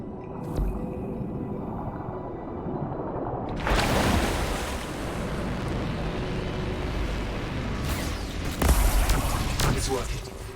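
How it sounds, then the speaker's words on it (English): Waterfalls in the video game Anthem flowing backwards, heard as a broad, steady rushing of water with deep swells and a loud surge partway through, set in a game scene with layered ambient effects. "Look at the waterfalls, they're going backwards."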